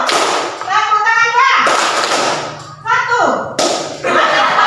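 Children in a classroom clap together in a call-and-response game, giving a few sharp group claps between stretches of an adult voice and children talking.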